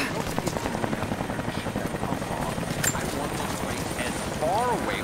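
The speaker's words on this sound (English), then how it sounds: "That was Constantine's chopper." A helicopter in the game Rise of the Tomb Raider thumps with a rapid, steady rotor beat close by, while a voice speaks briefly over it.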